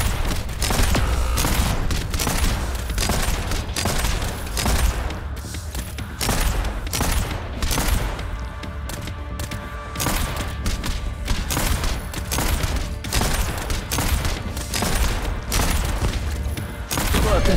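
Gunfire volleys in the game Arknights, with dense rapid shots and thumps in a steady barrage over music and effects throughout.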